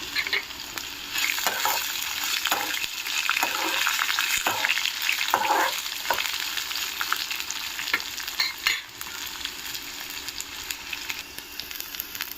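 Garlic frying in a pan for a tiffin-centre style ginger and green chilli chutney, a loud continuous close sizzle with the rustle and scrape of stirring running through it, no voices.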